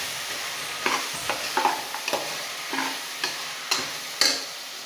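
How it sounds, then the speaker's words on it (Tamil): A spoon stirs cinnamon powder into coconut milk rice in a pan, giving a series of soft scraping clicks and light taps at an uneven pace over a quiet background. "இதை நல்லா கலந்து விடணும்."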